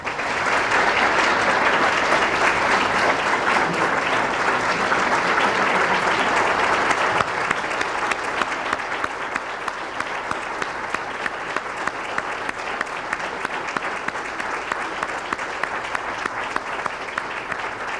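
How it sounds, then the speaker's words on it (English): A large audience at a school awards banquet applauds for a long stretch, the clapping dense and loud at first, then thinning slightly but continuing steadily. "let's give them a big round of applause"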